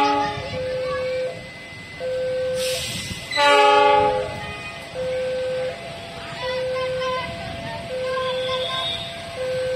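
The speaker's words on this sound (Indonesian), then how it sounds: "Nanti keretanya akan mundur ya lewat jalur langsir" Train horn sounding at a station as a train reverses along a shunting track to pick up a set of carriages, a steady tone with a louder horn burst near the middle and continuous rail noise throughout.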